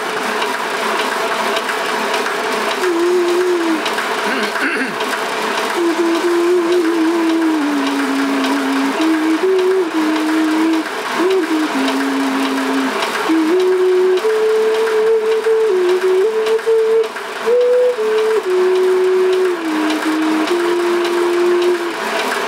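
Omega Super Charger compressor filling a tank: a loud, steady mechanical drone runs close and unbroken throughout, with a faint stepping musical tone playing over it.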